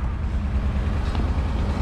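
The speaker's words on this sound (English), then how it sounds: "Motor sounds good." A 1966 Ford Thunderbird convertible engine runs steadily, a close, continuous low rumble with no change in pace from start to finish.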